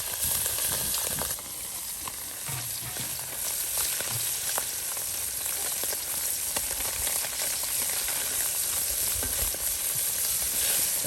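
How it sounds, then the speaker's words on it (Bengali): Puti fish frying in a pan, a steady broad sizzle with occasional scraping of stirring, continuous and fairly close, no voices. "দেখুন কত সুন্দর করে পুঁটি মাছ ভেজে নেওয়া হচ্ছে।"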